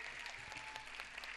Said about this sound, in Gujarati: હું તમને બધાને વિનંતી કરીશ કે ખૂબ જ તાળીઓ સાથે કેયાને કોંગ્રેટ્સ કહે